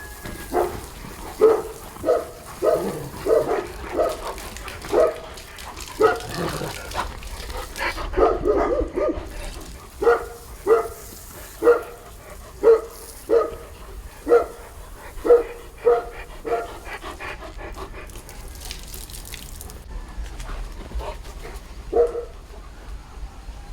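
A forest dog playing with other dogs, barking in a steady series of repeated woofs with some yips and whimpers, fairly close and regular over a low outdoor background.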